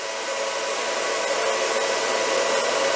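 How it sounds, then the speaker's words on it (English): A steady, even whirring hum of a motor drive's cooling fan running continuously at constant pitch, close by, with no voices. "Eventually what you hear there is the fan of the drive."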